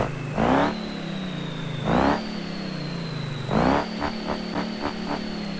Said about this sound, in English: Little rev limiter bash to finish her off